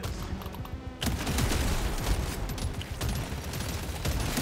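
A new gun fires in the video game Deep Rock Galactic Survivor with a dense, loud stream of rapid gunfire that intensifies after the first second and carries on without a break.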